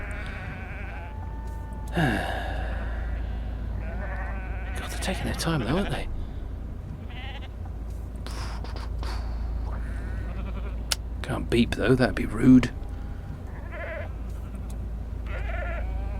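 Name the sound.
sheep bleating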